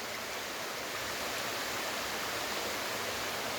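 Clear water from the hills pours through a rocky stream bed near Jata Shankar, Girnar, making a continuous dense rushing wash that holds level throughout, with no talking.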